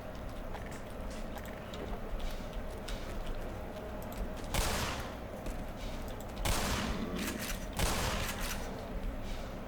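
Gunfire in the Black Mesa video game, with a few loud, sharp shotgun blasts cutting through a dense, noisy background of game sound.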